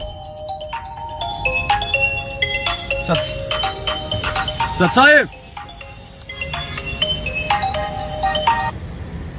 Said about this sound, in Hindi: टाटा वाले का फोन आ रहा है, उठाओ